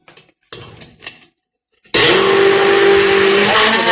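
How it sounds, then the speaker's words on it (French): Baghrir batter of water and semolina mixture whisked briskly in a bowl, a loud, steady whirring churn after a few short knocks, continuous to the end with no talking. "Ensuite, on mélange bien au fouet."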